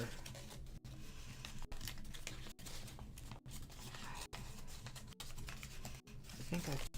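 Paper is folded into an origami rose in a close, quiet ASMR setting, with soft rustles and crinkles under a gentle voice and brief clean breaks between passages.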